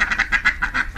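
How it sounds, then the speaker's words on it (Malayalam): A male duck, a drake, gives a rapid series of about seven raspy nasal quacks close by, evenly spaced over a second with no talking. "അതെ, ഇതൊരു പൂവനാണ്. ഒരു പൂവൻ താറാവ്."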